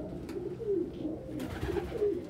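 Pigeons in a loft at evening give soft, low cooing calls in a gentle continuous murmur, fairly close but quiet, with no talk.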